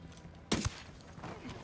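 Gunfire in the video game Tom Clancy's Ghost Recon Wildlands, a single sharp loud shot with a short echoing tail, followed by quieter game ambience.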